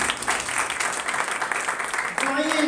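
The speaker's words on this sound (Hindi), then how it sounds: "तो उसके लिए जोरदार ताली बजाएं" A congregation at a church service applauds loudly with dense, sustained clapping from many hands, and a voice begins speaking over it near the end.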